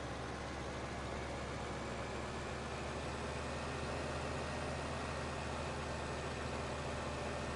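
A small Same tractor idles in the video game Farming Simulator 2015, a steady, even engine drone mixed with a soft hiss. It holds constant at low volume throughout, with no other sounds over it.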